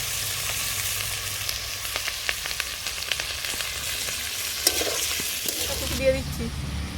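Ginger, garlic, coriander and cumin paste fries in a pan with a steady close sizzle, which shifts and flares near the end as water goes in. The dish is a rohu fish curry with cauliflower.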